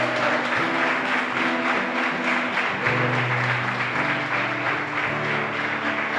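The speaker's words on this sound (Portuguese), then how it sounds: "Você pode dar um forte aplauso ao Senhor" A church congregation applauds the Lord at a Sunday evening service, dense steady clapping filling the room throughout, mixed with sustained music or organ tones underneath.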